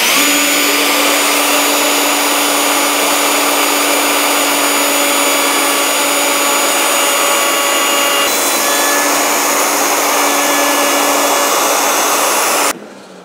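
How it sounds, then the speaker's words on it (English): A Festool CT26 dust extractor runs with a power saw cutting wood for a picture frame, making a loud, continuous close-up roar and whine with steady tones that holds throughout and stops abruptly at the end. "it will make the extractor start automatically"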